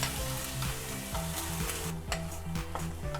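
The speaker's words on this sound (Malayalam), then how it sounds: "കടല അങ്ങ് ഇടാം. ഇനി ഒന്ന് നന്നായിട്ടൊന്ന് ഇളക്കുക." Chickpeas sizzling and frying in a pan for a Kerala-style kadala curry while being stirred, with steady crackle and repeated scraping stirs throughout, close and fairly loud, no talking.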